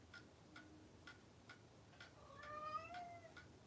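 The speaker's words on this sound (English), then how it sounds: "Cat's talkative today." A house cat meows in an indoor room, with several short meows and rising, drawn-out calls toward the end, set over faint periodic ticking.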